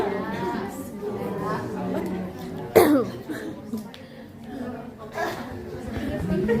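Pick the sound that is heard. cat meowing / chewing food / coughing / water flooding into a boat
coughing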